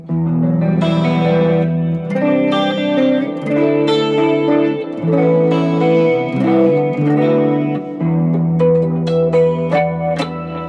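Clean electric guitar chords and picked notes through a Cool Cat chorus pedal, with a shimmering, wavering chorus effect, plus reverb and delay trails, loud and continuous without any voices.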